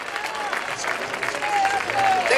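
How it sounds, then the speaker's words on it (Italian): An audience applauds at a 2015 dance recital, a dense, continuous patter of clapping that swells slightly toward the end, with voices mixed into the crowd noise. "Applausone!"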